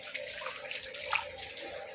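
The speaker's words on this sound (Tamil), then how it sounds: "ஃபுல்லாக வரும் தண்ணி அப்படியே ரோட்டில் போயிட்டு இருக்கு." Floodwater rushes along a road in a steady, broad wash of flowing water, moderately close and continuous, with no one talking.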